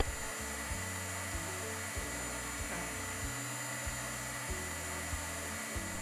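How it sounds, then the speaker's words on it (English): A heat gun drying layers of slip on a pottery bowl, producing a steady close whirring blower roar with a faint pulsing flutter throughout. "I dried each layer well with a heat gun"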